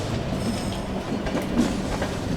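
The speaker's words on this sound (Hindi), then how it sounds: "यहाँ अपना अराइवल होता हुआ ग्वालियर जंक्शन पे अपनी राजधानी एक्सप्रेस का" The 22221 CR Rajdhani Express rolls into Gwalior Junction, a loud, steady rumble of railway carriages heard from on board with faint wheel clatter and a thin squeal, no talking.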